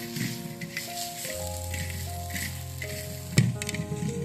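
Kharda chutney cooking in an iron tawa over a wood-fired stove, a soft continuous sizzle with faint rattles, a low steady hum beneath and one sharp clatter near the end.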